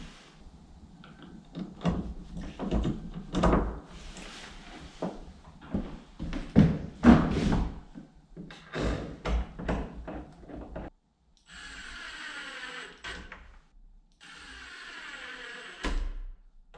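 A newly fitted bedroom door is opened and closed repeatedly. The clip has a series of thunks, knocks and latch clicks, then a short silence and a steadier scraping or sliding sound, all fairly close and with no talk.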